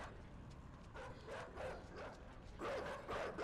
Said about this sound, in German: Hunde!